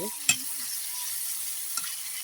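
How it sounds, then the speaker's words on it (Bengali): Pangas fish, potatoes and spices sauté in a pan with a soft continuous sizzle, marked by two distinct spatula knocks, one early and one near the end. "মাছ দিয়ে এগুলো কষে নিয়ে তুলে রাখতে হবে"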